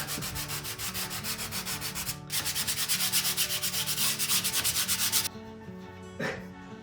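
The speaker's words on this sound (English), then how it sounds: "Just some light sanding." Rhythmic hand sanding of painted furniture, quick back-and-forth rasping strokes repeating steadily, close up, then stopping near the end.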